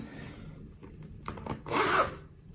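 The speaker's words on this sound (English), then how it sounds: "it has a zipper on the top here" A zipper on top of a Gucci clutch bag is pulled open in one quick, close rasping run lasting about half a second, following quieter handling rubs.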